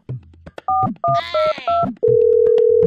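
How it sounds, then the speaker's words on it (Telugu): A series of short two-tone telephone keypad beeps, then a long steady ring-back tone, with a voice speaking briefly between them. "సరే ఫోన్ చేసి చూద్దాం"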